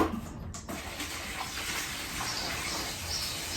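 Tap water runs steadily into a bucket for homemade fertiliser, a constant close gushing pour with no talk.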